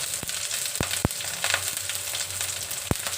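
Slit green chilies, onion and curry leaves crackle and sizzle in hot oil, a steady close frying hiss broken by several sharp pops and spatters.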